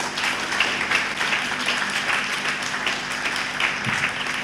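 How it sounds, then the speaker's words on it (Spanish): At the launch of a three-volume book of stories, the audience gives a warm round of applause for an honoured woman, a steady, moderately loud wash of many hands clapping at some distance. "un fuerte aplauso para doña Teresa"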